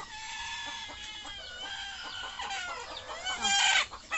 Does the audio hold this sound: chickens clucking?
yes